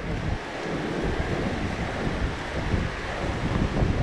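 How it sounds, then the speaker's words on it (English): Cold wind on a mountain top buffets the microphone in a loud, steady roar that gusts in waves. "Wow, it is much colder up here,"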